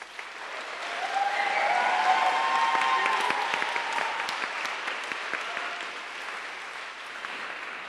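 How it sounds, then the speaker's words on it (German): A crowd at the DeafSlam 2015 final applauds the third-place finisher: clapping rises quickly, holds as a dense roar for a few seconds, then slowly tapers off while still going. "Riesenapplaus für den dritten Platz"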